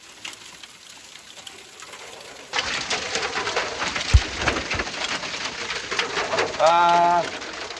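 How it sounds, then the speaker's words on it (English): Hail pelting down hard on a van during a heavy thunderstorm in northern Arizona: a dense, loud rattling roar that starts abruptly and keeps going, with a brief tonal chirp near the end. "We're getting pelted with hail right now and heavy thunderstorms."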